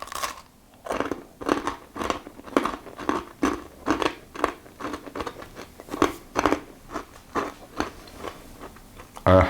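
Twice-baked hazelnut and date biscotti being bitten and chewed, a steady series of crisp, close crunches at roughly regular intervals.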